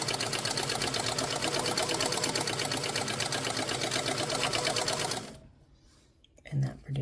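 Hamilton sewing machine with a stuck selector knob stitching, a rapid steady mechanical whirr and clatter running loud and close for about five seconds before stopping, followed by quieter handling sounds.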